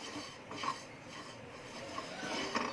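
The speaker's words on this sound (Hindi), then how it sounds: "तो ऐसे कड़छी लगातार चलाते रहना है" A metal ladle scrapes and clinks against a pan while cumin seeds roast, soft repeated rubbing strokes with a few light taps, close and fairly quiet.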